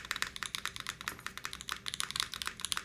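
Typing on a KBDFans Margo keyboard fitted with EVA switches: a rapid, uneven run of crisp, close keystroke clacks lasting the whole stretch, with no voices.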